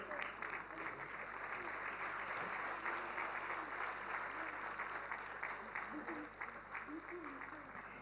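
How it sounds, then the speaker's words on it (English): Audience applausing at an inauguration ceremony of a Civil20 summit on holistic health, steady dense clapping from a large crowd throughout, with faint voices murmuring beneath. "Please, a round of applause for somebody who has been a part of this organization"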